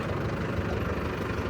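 Steady low rumble of a Mahindra Arjun NOVO 605 tractor diesel engine running smoothly after a turbo fit, close and continuous with no change in tone.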